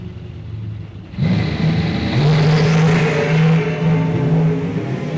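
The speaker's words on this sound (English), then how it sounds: "someone's ripping the throttle" A drag racing car at a bracket racing event rips the throttle to full power, a loud roaring engine snarl bursting in after a second and holding steady close by, with no voices over it.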